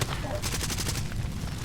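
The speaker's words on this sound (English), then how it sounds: "I can't see where these guys are shooting me from" Gunfire in the video game Far Cry 2, a rapid fusillade of shots over a rumbling low background, close and steady through the short moment.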